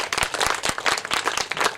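Audience applause for a school at a Louis Braille birth anniversary ceremony: dense, continuous clapping from many hands in a hall, steady and moderately loud with no talk over it.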